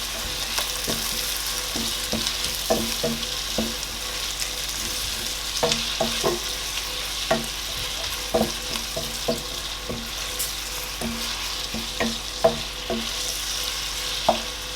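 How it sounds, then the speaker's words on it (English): Chopped pepper and tomato fry with ginger and garlic in a pot, giving a continuous sizzle broken by frequent, irregular spoon knocks and scrapes close by. "I'm going to allow this to fry for like 10 minutes."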